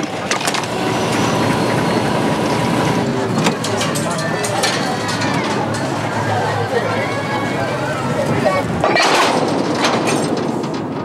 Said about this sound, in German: In dieser Zeit wird rangiert. Die Lok muss an das andere Ende des Zuges gefahren werden.